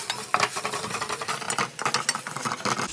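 Ginger-garlic paste stirred into frying onions for boti curry: a close, busy sizzle with rapid, repeated scraping and clinking of a spoon against the pan, no talking.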